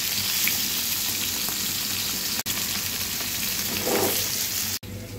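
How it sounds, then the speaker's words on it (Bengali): Rui fish frying in hot oil, a loud, dense, continuous crackling sizzle heard up close, with two brief dropouts and no voices. "এই তো হয়ে গেল আমার রুই মাছ ফ্রাই"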